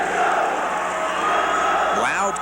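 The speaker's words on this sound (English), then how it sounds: "Loud crowd and a large crowd on hand for tonight's game." Loud, large crowd at a 1985 New Jersey high school hockey state final at an arena, a steady dense roar of cheering and voices with a short whoop near the end.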